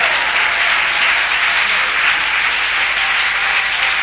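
A church congregation claps loudly and steadily in sustained applause acclaiming the Lord, a dense, even wash of many hands filling the room.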